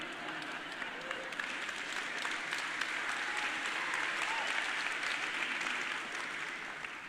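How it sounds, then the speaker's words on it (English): A studio audience breaks into steady, dense applause that holds evenly for several seconds at moderate distance, with faint murmuring beneath the clapping. "See, now they're clapping about it."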